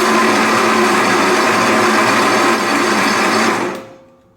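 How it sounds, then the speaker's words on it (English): A riding mower engine is cranked over with the spark plugs in, producing a loud, steady mechanical whir with a rapid even rhythm that runs for about three and a half seconds before cutting off abruptly. "let me try and spin this engine over again and see if it spins over easier"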